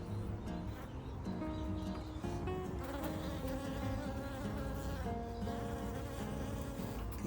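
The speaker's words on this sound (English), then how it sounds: "Oh, there's a lot of bees down in there." Dense, loud swarm of honeybees buzzing continuously around an Autoflow beehive outdoors, many overlapping wingbeat drones rising and falling in pitch with a few faint bird chirps behind.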